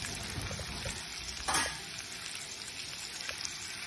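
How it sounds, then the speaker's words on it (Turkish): Vegetables sizzling in a pan with seared pheasant pieces, a steady close crackle of frying with a brief louder burst as they are stirred partway through. "Şu anda haliyle sebzeleri ilave ediyoruz."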